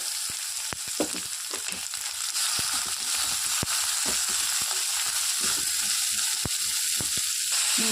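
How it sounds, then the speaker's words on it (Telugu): Fenugreek seeds and onions frying in hot oil, giving a continuous bright sizzle with scattered sharp pops and crackles and occasional stirring scrapes, close and alone. "ఈ వేగిన దాంట్లో మెంతులు వేసుకోవాలండి ఉల్లిపాయలు"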